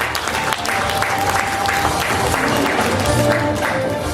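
A large audience applauds steadily and loudly throughout, a dense, continuous clapping filling an auditorium at an award ceremony.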